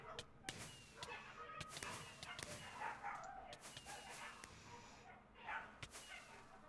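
A dog barks and yips frantically somewhere in the background of a game of TNT Tag, with sharp repeated bursts over a busy, noisy backdrop and faint sounds of activity.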